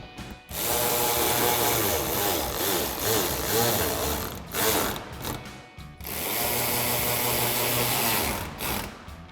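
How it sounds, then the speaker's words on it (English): A ratchet wrench with 10mm and 8mm sockets tightens fender flare bolts on a 2009-2018 RAM 1500 pickup, clicking rapidly and loudly up close in two long runs split by a brief pause. "We'll tighten these down with your 10mm socket and my 8mm socket."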